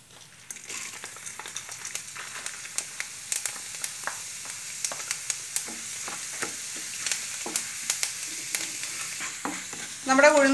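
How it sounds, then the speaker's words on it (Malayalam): Urad dal fries in hot oil with mustard seeds for a potato masala while a spoon stirs it, a steady sizzle broken by scraping strokes and scattered pops, close up and without speech. "ഒരു ബ്രൗൺ കളർ ആകുന്നവരെ നമുക്കിത് വഴറ്റിയെടുക്കാം."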